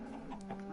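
Minecraft chicken clucking in a game world, a couple of short clucks over a steady low hum of game ambience, faint and brief.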